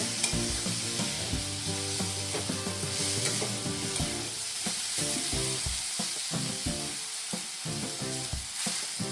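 Tomatoes tipped into a hot pan of Bhogi bhaji, Maharashtrian mixed winter vegetable curry, sizzling and frying steadily throughout with scraping stir clatter and small knocks, close and continuous without any voices.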